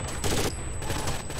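Dense automatic gunfire in the video game Rainbow Six Vegas 2, a loud continuous fusillade of rapid shots filling the whole moment with no speech over it.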